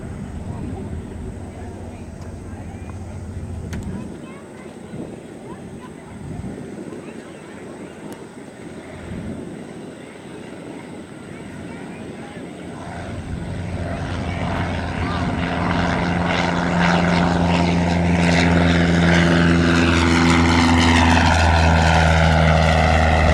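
Cessna 172 single-engine propeller plane taking off from a runway at an airport air fair, engine drone building steadily louder toward the end, heard from a distance with crowd noise and voices around.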